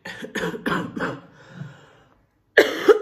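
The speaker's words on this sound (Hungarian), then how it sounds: "ilyen tüdős vagyok most, köhögök" Several harsh coughs in quick succession, close and loud, then a quiet pause before another sharp burst of coughing.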